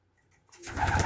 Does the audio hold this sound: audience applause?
no